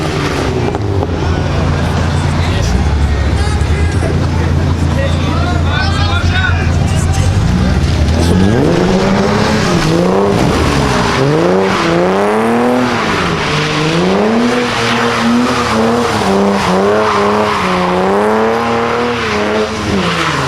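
A Ford EcoBoost car does a tire burnout at a car meet: a roaring engine and squealing tire noise first, then hard revving with rising and falling pitch. The crowd chatters and cheers throughout.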